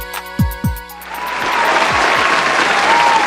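Studio audience applauding at a radio station's Christmas breakfast show, a few sharp musical hits opening before a loud, sustained wave of clapping and cheering that swells and holds to the end.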